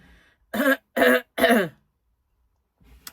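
Three quick, harsh coughs in close succession, loud and near, followed by silence and a faint small sound.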